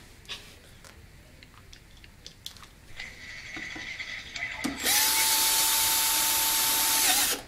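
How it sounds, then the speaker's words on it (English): Ratcheting clicks and tool handling while rack mounting give way to a loud, steady whine of a power drill running for a couple of seconds before stopping. "I recommend using a power drill because it's faster."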